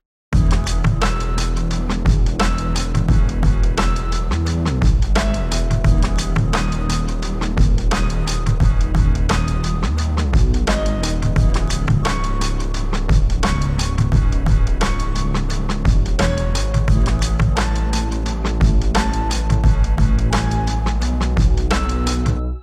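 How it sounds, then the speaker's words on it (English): Second bass melody from a beat, a more intricate bass line under a dense, steady full mix with sustained tones, playing loud and continuous with no voices. "the second bass melody comes in a little bit later, and it's going to be more complicated"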